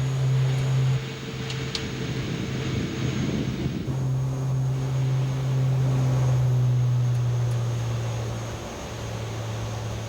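Dornier 328 turboprop engines at climb power just after takeoff, a steady loud drone with a strong low hum heard from the flight deck, with shifts in tone and no talking.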